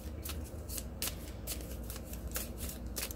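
Playing cards, likely tarot or oracle cards, shuffled close up in a quiet room, with rhythmic riffling bursts repeating about every half second, soft and steady, alone without talk.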